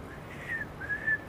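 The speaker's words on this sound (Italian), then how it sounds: "Ma puoi provare a fischiare?" A man on an Italian television show tries to whistle, producing a thin, wavering, breathy tone in two short attempts over faint background room noise.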